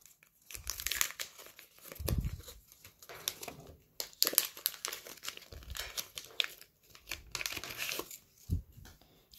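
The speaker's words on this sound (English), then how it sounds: "Open the pack backwards so you don't see the holo." Foil wrapper of a McDonald's Pokemon card pack crinkling and tearing open close up, in several bursts of loud crackling rustle separated by brief pauses.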